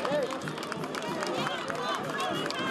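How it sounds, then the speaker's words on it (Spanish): Outdoor crowd in Piura welcoming President Kuczynski, continuous clapping mixed with cheering and excited voices, a busy steady wash of applause throughout. "Vamos, muchachos, fuerte el aplauso."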